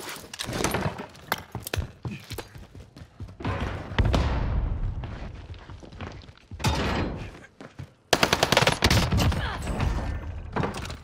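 Rapid gunfire from an H4 Blixen in Call of Duty on Rebirth Island, video game, sharp repeated bursts of shots with short pauses between volleys, close and loud.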